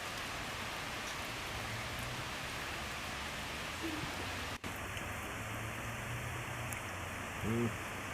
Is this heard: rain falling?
yes